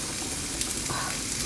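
Onions fry for gravy in a pan with a steady, close hiss and crackle of sizzling oil, continuous and without talk.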